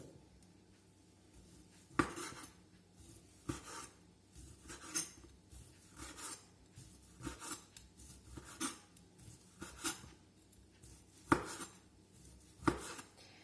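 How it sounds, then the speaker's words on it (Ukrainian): Knife chopping through fatty sausage on a cutting board, a run of sharp irregular cuts with quiet gaps between them, close by. "Далі будемо нарізати ковбаску сальну."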